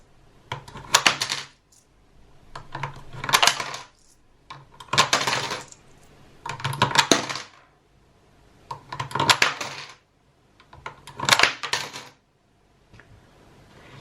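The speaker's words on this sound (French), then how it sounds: "On va tout de suite venir les ajouter dans la tirelire à pièces." Coins drop into a coin piggy bank in six separate clattering bursts spaced about two seconds apart, each a bright metallic jingle that rises and fades, close and clear over near silence.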